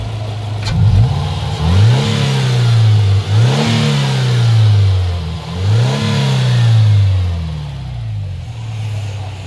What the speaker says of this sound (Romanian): Hai să-l ambalăm puțin.